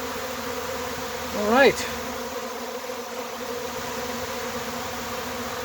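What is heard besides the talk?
honeybee swarm buzzing, moving into swarm trap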